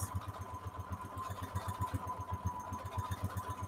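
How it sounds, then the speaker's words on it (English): Sewing machine running a zigzag stitch on fabric scraps, a fast even mechanical chatter with a steady rhythmic thump throughout, close and moderately loud, with no talking. "I go with my simple zigzag stitch sometimes."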